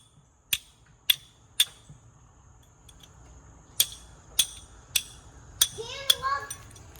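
A wrench clicks and clanks in sharp, irregular metallic taps while a Huffy bike is taken apart, a series of about ten distinct ringing knocks, close and clear against a quiet room.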